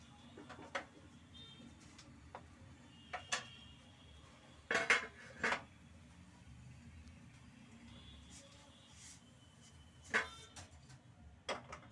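Radish fritters lifted from a frying pan onto a plate: a few sharp clinks and taps of utensil on metal and plate, clustered near five and ten seconds, with quieter scattered ticks between.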